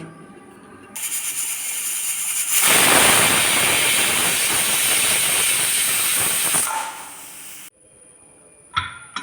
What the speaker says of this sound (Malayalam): സ്റ്റവ് ഫുൾ ഫ്ലെയിമിൽ വെച്ചിട്ട് ഒറ്റ വിസിൽ കേട്ടോ.